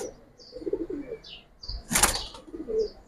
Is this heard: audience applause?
no